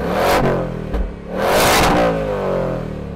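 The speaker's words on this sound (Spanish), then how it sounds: "vamos a escuchar cómo suena en modo silencio." Ford Mustang Dark Horse V8 in quiet exhaust mode revving up twice, each blip rising and falling back to a steady idle, fairly close and alone.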